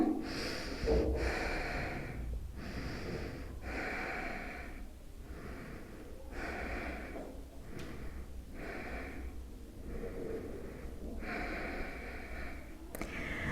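Slow, audible breathing during a yoga plow pose in a core-strengthening session, with repeated airy inhales and exhales roughly every one to two seconds, close and soft, with no talking.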